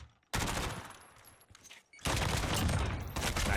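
Rapid bursts of automatic gunfire from a Call of Duty match in a professional esports league, dense fusillades with a short lull between them, loud and close.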